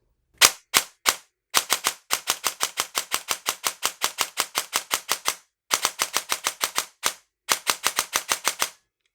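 Shots crack from a DSG airsoft gun fitted with a Perun V2 Optical MOSFET and fired without precocking, loud and close, coming as single shots and then long rapid strings broken by short pauses, with no talk.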